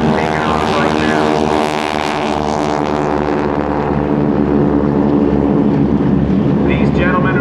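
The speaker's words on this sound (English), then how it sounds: "as we see the GEICO Skytypers taking off right now" SNJ propeller airplanes of the GEICO Skytypers, with 600-horsepower engines, taking off at the 2006 NAS Oceana airshow. A loud, steady, throbbing engine roar fills the air while an announcer speaks over it.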